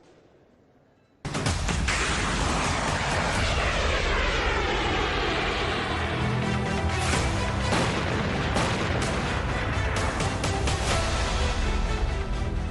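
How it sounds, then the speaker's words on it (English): An Indian Nag anti-tank guided missile blasts off from its carrier vehicle at Pokhran with a sudden loud roar that keeps rushing and crackling for several seconds. "the Nag, India's very own anti-tank guided missile, blasting out from its carrier"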